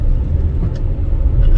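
The 1.3 turbo engine of an MG ZST on a country road gives a steady low rumble mixed with road and tyre noise from inside the cabin, loud and continuous.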